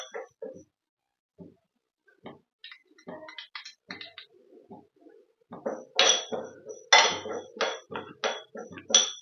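Fennel seeds are stirred in a small tadka pan over a gas flame, giving sparse light clinks and scrapes that turn into a denser, louder run of metallic scraping and rattling near the end.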